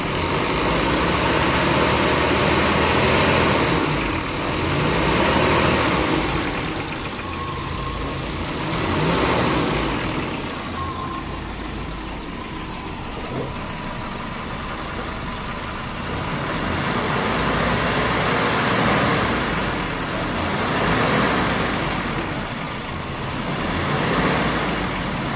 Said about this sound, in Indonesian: Mesin masih menyala, kita gas sampai RPM 2000 maksimal.